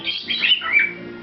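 A pet bird lets out a quick burst of bright, high chirps and tweets, close and fairly loud, with no talking.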